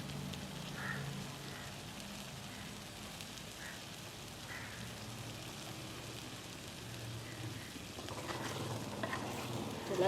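An egg fritter curry is stirred in a pan, giving a soft continuous sizzle with faint scraping. It stays quiet and even, growing slightly louder near the end, with no talking.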